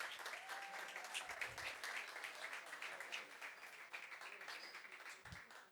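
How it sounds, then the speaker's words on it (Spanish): An audience claps in a steady burst of applause for a volunteer at a science talk, dense and continuous, heard from a moderate distance. "un aplauso ahí para nuestra voluntaria"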